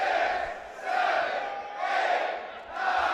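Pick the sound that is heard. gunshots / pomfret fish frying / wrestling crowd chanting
wrestling crowd chanting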